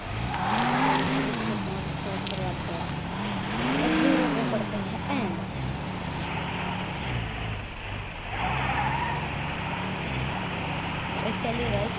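Engine noise from a car driven in the video game Car Simulator 2 rises and falls as the car revs and shifts, playing continuously under a person talking.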